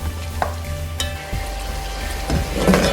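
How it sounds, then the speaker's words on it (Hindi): Mutton pieces with spice masala frying in a pan for a Shimla mirch gosht dish, a steady sizzle with a few sharp stirring scrapes and clinks, close and moderately loud with no voices. "फिर तकरीबन 5 मिनट तक भूनेंगे ताकि सारे मसाला जात अच्छी तरह से फ्राई हो जाएं।"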